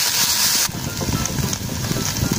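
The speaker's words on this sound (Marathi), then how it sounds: "त्यासाठी एक पॅन गरम केला आहे, त्यात थोडंसं तेल टाकलं आहे, गॅस आपण मध्यम आचेवर ठेवलेला आहे, त्यामध्ये आता आपण पनीरचे क्यूब्स घालूयात" Paneer cubes go into a pan of a little hot oil over a medium gas flame, starting with a loud, bright hiss that settles into a steady, softer crackling sizzle.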